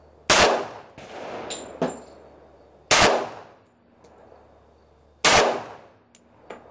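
Three loud, close pistol shots from a Colt 1911 fired at a target, spaced a couple of seconds apart, each with a brief decaying ring and a few faint metallic clicks between them.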